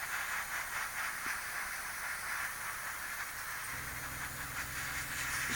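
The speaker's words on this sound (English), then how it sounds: "Sorry about the noise compressor." A steady, loud hiss of an airbrush air compressor running continuously, with a low rumbling hum joining in partway through.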